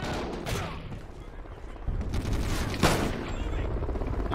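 Rapid automatic gunfire rattles through a Call of Duty Ghosts multiplayer match, dense bursts running the whole stretch with a sharp louder crack near the three-second mark, loud and close, with a voice speaking briefly over the shooting.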